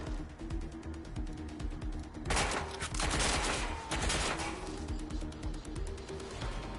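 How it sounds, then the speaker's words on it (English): Bursts of automatic gunfire in Watch Dogs Legion, dense rapid volleys swelling loudest in the middle, over a low steady hum with no talk. "Fuck, taking fire!"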